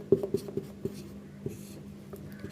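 Chalk or marker strokes sound as a formula is written on a classroom board, a series of short taps and scratches, quick at first and then more spaced, close and fairly quiet.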